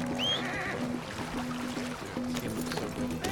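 A horse whinnies briefly near the start in the video game Red Dead Redemption 2, a rising squeal over a steady droning background of game ambience and soft knocking sounds.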